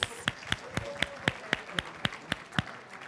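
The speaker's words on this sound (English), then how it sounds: "Round of applause" Steady rhythmic clapping from a workshop audience, a single clear run of evenly spaced claps at a moderate pace over faint background murmur.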